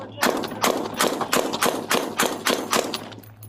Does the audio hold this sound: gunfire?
yes